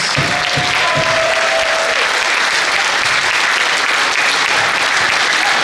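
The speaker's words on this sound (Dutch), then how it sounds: "geef een geweldige applaus" Loud, sustained applause from a crowd at a Limburg carnival gathering honoring a new city prince, a steady wash of clapping throughout, with a brief tonal note near the start.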